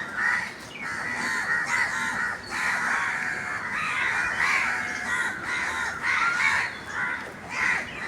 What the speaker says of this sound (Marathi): इथे कुठल्या तरी झाडावर कावळ्याचं घरट आहे